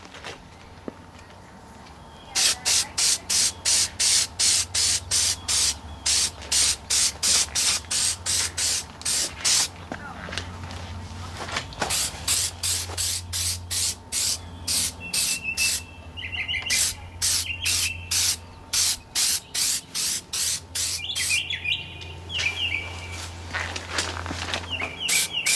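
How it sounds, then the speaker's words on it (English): Aerosol clear coat from a Meguiar's headlight restoration kit sprayed onto a Toyota Highlander headlight in a long series of short, close hissing bursts with brief pauses between, birds chirping faintly outdoors in the background. "I'm going to apply the first coat of clear on here"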